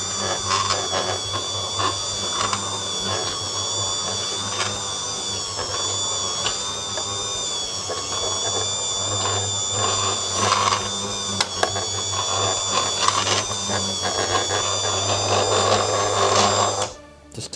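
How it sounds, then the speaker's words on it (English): A meat slicing machine cuts through a ham in a kitchen, giving a steady motor whine with rhythmic slicing passes throughout and a faint clatter near the end. "So I've got my slicing machine here, and I'm going to start putting the ham into here"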